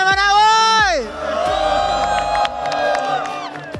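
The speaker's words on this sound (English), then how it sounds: "We want to hear you cheer." A large arena crowd at the M7 World Championship esports event roars and cheers in a loud burst that swells, then carries on as a sustained wash of shouting and whoops, with a voice on the microphone over it.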